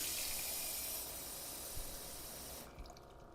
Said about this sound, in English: So let's add some more water.